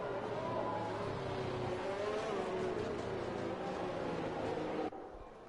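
Race car engines in a racing video game on a Spanish circuit, with the field running behind the safety car. They drone steadily and loudly as one blended roar, then drop away abruptly near the end.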